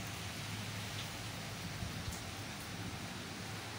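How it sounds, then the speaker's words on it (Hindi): Heavy early-morning rain falls steadily in a dense, even hiss, with a faint low rumble underneath and no voices over it. "सुबुह जो सवा सत थिया आहिनि हिन महिल ऐं माशाल्लाह सां ॾाढी बारिश थी"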